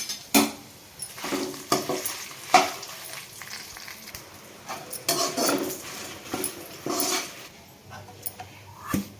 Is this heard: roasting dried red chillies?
yes